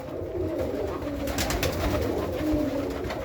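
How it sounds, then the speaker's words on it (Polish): Pigeons coo steadily in a loft where roughly a hundred birds are kept, their low, throaty calls overlapping continuously and close by with no talking. "nie będę chciał mieć tutaj tyle gołębi"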